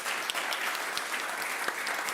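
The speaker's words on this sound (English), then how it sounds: "Please, a round of applause to the speaker of our panel." Steady applause from a conference audience after a panel session at a digital transformation forum, dense clapping sustained throughout at moderate distance with no talk.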